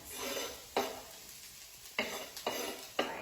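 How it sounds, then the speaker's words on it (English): Mushrooms and spinach sautéing on a grill give a soft, steady sizzle, broken by several sharp scrapes and clinks of a utensil against the pan at irregular intervals; fairly quiet, with no talk. "while our vegetables are sauteing behind us"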